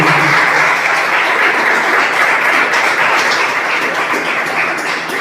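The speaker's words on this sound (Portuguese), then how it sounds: "Palmas para ele." Loud, steady applause from a church congregation during a worship service, a dense and continuous wash of clapping that holds for several seconds and fades only slightly toward the end.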